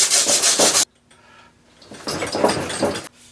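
A Scotch-Brite pad rubs a bicycle part to an even finish in two close, loud bursts of harsh abrasive scrubbing separated by a brief quiet pause.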